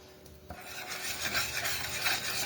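Grated Parmesan being whisked into whipping cream seasoned with Italian seasoning, a quick scraping, rasping stir of a whisk in a pan, close and steady, with no talking.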